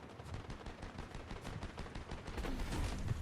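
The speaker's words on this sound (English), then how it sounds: "Looks like there's a bunch of shooting going on over here" Continuous rapid gunfire crackles in dense bursts, an ongoing firefight in Fortnite, fairly distant and steady, growing slightly louder toward the end.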